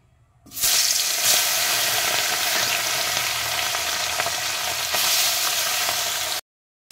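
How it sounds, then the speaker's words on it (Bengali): Small pond fish drop into hot oil in a wok and set off a loud, steady sizzle and crackle that starts abruptly and keeps going for several seconds before cutting off. "তেল গরম হয়ে গেছে, এবার আমি মাছ দিয়ে দেবো।"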